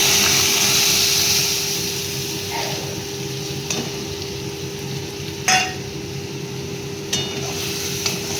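Spice paste (masala) frying in a pan for a Bengali cauliflower curry, a steady close sizzle with stirring scrapes and a few sharp clicks of the utensil against the pan, no voices.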